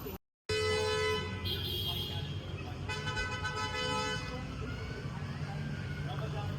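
Busy Dubai street traffic near a Ramadan food festival, with loud car horns honking in several sustained blasts over a steady roar of engines and crowd noise, plus voices talking.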